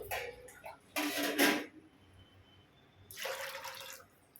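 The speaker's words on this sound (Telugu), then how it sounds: "ఒక గ్లాసు వాటర్ పోస్తున్నాను" Water pours from a glass into a pot of lentils in two short bursts separated by a quiet pause, close and moderately loud.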